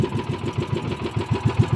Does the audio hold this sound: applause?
no